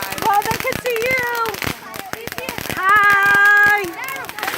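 Fourth of July fireworks pop and crackle in sharp bursts, some close together, while an adult and someone talk and coo over them.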